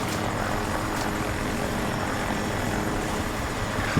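Steady helicopter-like rotor and engine drone of a hostile aircraft in a military video game, holding at a constant, fairly loud level without a break.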